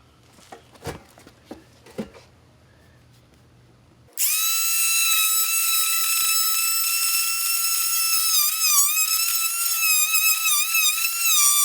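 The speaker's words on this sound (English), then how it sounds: "I'm going to use the multi-tool saw to take this piece out" An oscillating multi-tool saw cuts out a piece of wood trim at an exterior door, starting after a few light taps and clicks, then buzzing loudly and continuously with a high, wavering whine as the blade bites.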